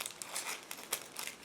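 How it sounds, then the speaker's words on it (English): A separate plastic bag holding the clear parts of an Eduard 1/48 Tiffy scale model kit is opened up close, giving a steady run of crisp crinkling and rustling with a few sharper crackles. "transparent parts are packed into the separate plastic bag, and I will open it"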